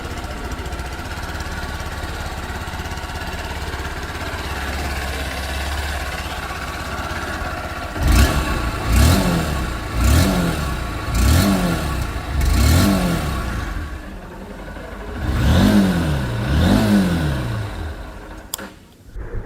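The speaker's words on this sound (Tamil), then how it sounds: "அது சைலன்சரோட எக்ஸாஸ்ட் சவுண்டு நம்ம கேட்போமா" A 2025 Honda SP 160 motorcycle exhaust idles with a steady low rumble, then gets several sharp revs that rise and fall in quick succession before settling back, loud and close with no talking.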